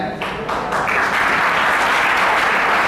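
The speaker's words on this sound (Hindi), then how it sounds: "इनकी तालियों से बड़ा हम स्वागत करें" An audience at a National Sports Day award ceremony applauds to welcome a four-year-old boy who is learning skating onto the stage. The clapping is dense and continuous, swelling quickly and holding strong throughout.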